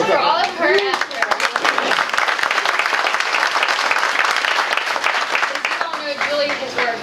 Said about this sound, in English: I want to give a quick round of applause to Julie Wright